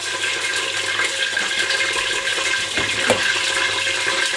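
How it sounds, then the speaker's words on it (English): Water pours and splashes continuously into a cooking pot for fried egusi soup, a steady rushing stream with a brief clatter near the end. "pour more of it and add a little bit more water."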